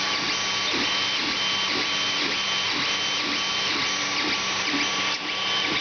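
Creality Ender 3 3D printer running its first print, with a loud continuous motor whine and regular stepping pulses repeating about twice a second, close and alone.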